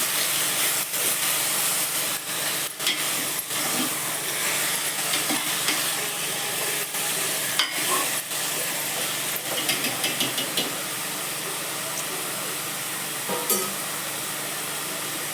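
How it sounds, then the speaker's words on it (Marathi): Mutton broth boils in a pot with a continuous loud hiss and bubbling, dotted with sharp ticks and pops throughout. "उकळून घेते चांगलं"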